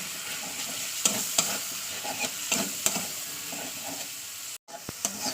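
Spice masala is fried in oil and stirred over a gas flame, a continuous close sizzle broken by regular scraping strokes of a spoon against the pan, with a brief pause near the end.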